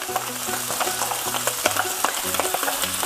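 Rice for Vietnamese fried rice frying on high heat in a hot pan, loud close sizzling with repeated scraping and stirring clatter in a busy rhythm.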